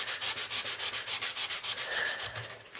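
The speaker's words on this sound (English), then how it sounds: "My sander here isn't working too well, so it takes a bit of time, and it takes a bit of elbow grease too." A sander that isn't working well rubs over a craft tag in quick, even back-and-forth strokes, a steady rhythmic scratching that fades near the end, with no talking.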